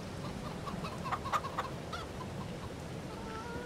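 Hens cluck softly in Farming Simulator 22 while at a Black Hills egg farm, a few short bursts of clucking from a small batch of birds, fairly quiet over a low background hum.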